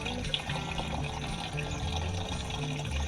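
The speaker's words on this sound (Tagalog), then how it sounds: "lagyan na po natin ito ng tubig yung sakto lang" Water pouring steadily into a sprayer tank while an insecticide mix is prepared for a corn field, a continuous close splashing gush with no talk.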